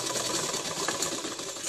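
A sewing machine locks the stitch on a dhoti shalwar, running back and forth in a short continuous whirring burst up close, with no talking.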